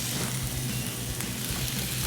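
Julienned onions sautéing in oil in a pan, a steady close sizzle and crackle running without pause, no voices over it.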